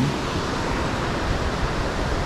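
A waterfall on Lake Superior's North Shore pours in a steady, broadband roar, close and loud with no pauses or other sounds.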